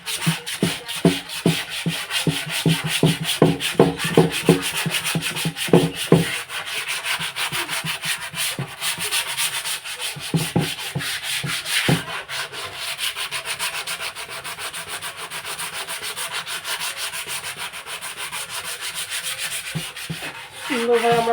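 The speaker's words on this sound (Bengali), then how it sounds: "দেখতেই পাচ্ছেন ভালো করে এটাকে স্যান্ড পেপার দিয়ে ঘষে নিচ্ছি।" Sandpaper rubs over a speaker box in quick rhythmic strokes, close and scratchy. The strokes turn into a steadier continuous grinding rasp, with no talking.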